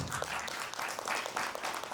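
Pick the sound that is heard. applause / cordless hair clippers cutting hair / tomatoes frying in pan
applause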